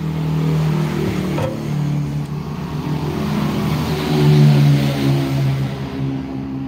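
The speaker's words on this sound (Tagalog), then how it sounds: "Humaharurot ang mga sasakyan." Cars speeding and revving along a road, a loud steady engine drone with a swelling surge as a vehicle passes close, no voices over it.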